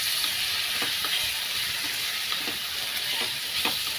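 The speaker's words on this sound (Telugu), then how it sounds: "ఒక స్పూను అల్లం వెల్లుల్లి పేస్ట్ ఇది కూడా పచ్చివాసన పోయేవాసన కలిపేస్తున్నాం" Ginger garlic paste sizzles and fries in a pan while a spoon stirs it now and then, a steady close hiss with soft scraping strokes and no talk.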